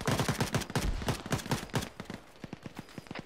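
Rapid bursts of rifle and machine-gun fire crack in an Arma 3 firefight, loud and close at first, then thinning into sparser, slightly quieter shots, with no talking.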